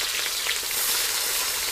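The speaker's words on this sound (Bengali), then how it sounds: "পেঁয়াজ ভাজা হয়ে গেছে" Chopped onions fry in a pan with bay leaf, dried chilli, cinnamon and cloves for village-style picnic cooking, giving a steady, close, hissing sizzle with no pauses.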